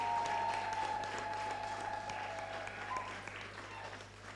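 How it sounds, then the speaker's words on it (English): An audience at a girls' storytelling forum claps for a spoken word performer, a moderate wash of applause that starts strong and slowly fades, over a steady low hum with a faint tone. "Let's clap for her."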